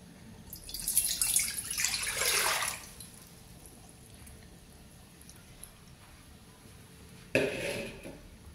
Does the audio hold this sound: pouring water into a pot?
yes